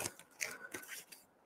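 Scissors snip into a pillow during a sewing project, a few short crisp crunching cuts close to the microphone with brief pauses between them.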